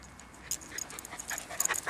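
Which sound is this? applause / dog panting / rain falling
dog panting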